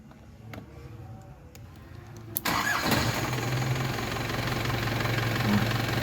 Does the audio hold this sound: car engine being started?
yes